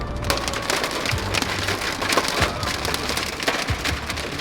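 Small hail and rain beating steadily on a surface during a storm chase: a dense, continuous patter of close clicks and taps with occasional louder hits, no voices.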